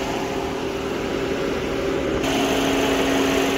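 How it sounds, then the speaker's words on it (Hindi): A 2020 Creta 1.5 BS6 diesel car engine idles close by with an even, continuous mechanical hum, no talking. "गाड़ी डीजल इंजन है तो आवाज़ कम से कम करती है"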